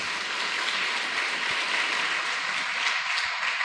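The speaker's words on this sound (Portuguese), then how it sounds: "Vamos aplaudir ao Senhor por esse testemunho?" A church congregation applauds throughout at a family worship service, a dense, steady wash of many hands clapping at moderate volume with no voices over it.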